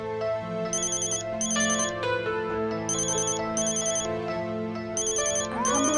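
A mobile phone ringtone plays a repeating melodic tune in regular bursts, loud and close, with no voices over the ringing.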